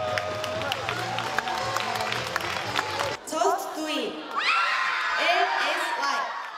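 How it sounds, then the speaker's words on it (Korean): Students cheer and shout as winners are called at a creativity olympiad award ceremony. The lively crowd noise lasts a few seconds, then gives way to a single voice speaking. "수상자가 호명되자 환호성을 지르며 학생들이 뛰어나옵니다"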